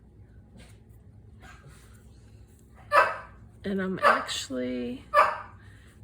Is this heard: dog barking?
yes